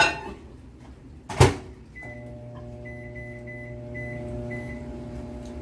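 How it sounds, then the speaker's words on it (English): A door thuds shut, then a microwave oven starts a three-minute run heating water, with a steady hum and faint high beeping tones, running on close by. "We're gonna put it in the microwave for 3 minutes."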